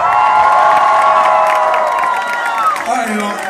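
A concert crowd cheers, whoops and shouts loudly and continuously, a dense wall of voices that dips slightly near the end.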